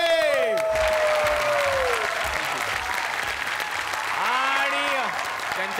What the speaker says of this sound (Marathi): जोरदार टाळ्या झाल्या पाहिजेत बाळासाहेबांसाठी, म्हणजेच गिरीश कुलकर्णी यांच्यासाठी.